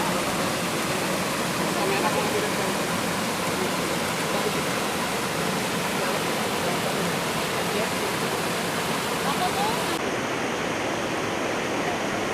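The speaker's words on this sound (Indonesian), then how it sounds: "Air terjun Muara Karing ini menyajikan panorama menawan di tengah hutan belantara." A steady, broad roar of the Muara Karing waterfall in the forest of Merangin, Jambi, falling over rocks, fills the whole stretch, dense and constant, cutting off abruptly near the end.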